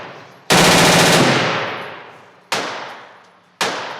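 Gunfire: three loud, sharp blasts, each followed by a long decaying rumble that fills the silence before the next shot, spaced roughly two seconds then one second apart.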